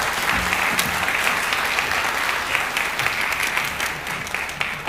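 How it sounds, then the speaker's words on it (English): An audience at a high school orchestra gala concert gives a fiddler and players a round of applause, dense and steady clapping filling the hall from start to finish. "Let's give them another round of applause."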